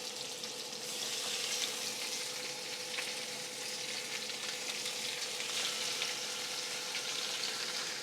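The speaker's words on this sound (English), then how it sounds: "You want these pork chops to sizzle. You want them to fry up." Pork chops frying in hot oil in a pan, a steady loud sizzle with fine crackling and popping that swells after the first second and holds evenly, with no talking.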